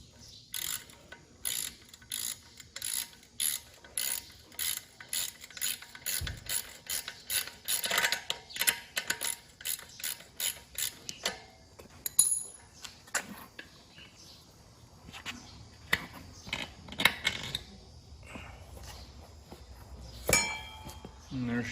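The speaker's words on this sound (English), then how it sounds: "I was just trying to tighten that rim lock." Ratcheting tool tightening the rim lock on a dirt bike wheel during a tire change, a run of rapid, evenly spaced clicks followed by slower, irregular clacks and metallic handling, close and fairly quiet.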